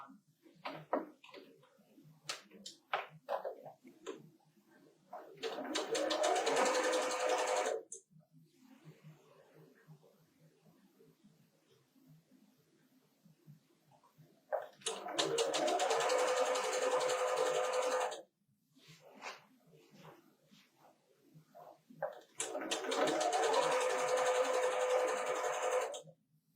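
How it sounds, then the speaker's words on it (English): A sewing machine stitches disappearing nine-patch quilt blocks in three sustained whirring runs of a few seconds each. Quiet pauses with soft handling noises separate the runs. "I'm going to go ahead and take them to my sewing machine and sew it out"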